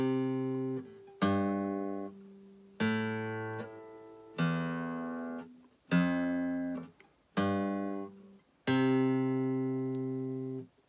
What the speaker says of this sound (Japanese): 5弦3フレットから6弦に行って、5弦開放に行って6弦開放に行って、